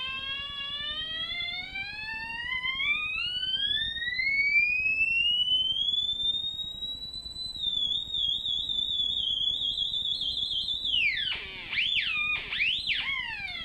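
An electronic oscillator circuit built for a GCSE electronics tutorial sends out a pure whistling tone that climbs steadily in pitch, holds high, then wobbles and dips near the end, fairly loud and with no speech.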